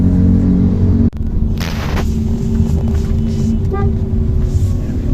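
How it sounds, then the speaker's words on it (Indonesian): Several short car horn toots sound from inside a VinFast electric taxi over a steady engine and traffic rumble, with a sharp thump early on. "Suara klakson."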